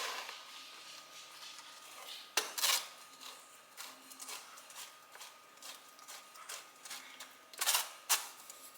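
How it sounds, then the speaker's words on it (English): A spatula works a mash of tabasco peppers through a metal strainer, making close scraping swishes and occasional sharp clinks and taps against the mesh in an uneven rhythm, with no talking. "I'm just gonna get a spatula here so that I can start to kind of work this through the strainer"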